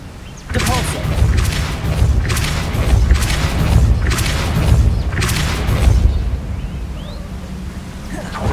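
Repeated heavy whooshing booms from Depulso force-push spell blasts in Hogwarts Legacy land roughly every second in a loud, rhythmic series, with a spoken voice mixed among them.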